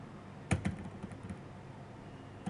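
Someone types a password on a computer keyboard, a few faint, close keystroke clicks in a quiet room. A sharper burst of keys comes early and one more click comes near the end.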